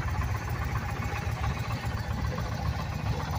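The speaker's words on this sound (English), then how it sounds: "I'm gonna fire it up and we'll take a listen to that V-twin." Base 2022 Indian Challenger V-twin motorcycle on its original exhaust, idling with a smooth, steady low rumble at a moderate, even level and no talking.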